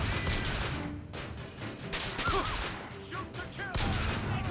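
Gunfire rings out in the first-person shooter BioShock Infinite, a rapid string of sharp, loud shots and bursts with short gaps, and some faint in-game chatter between the cracks.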